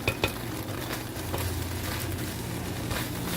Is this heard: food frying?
yes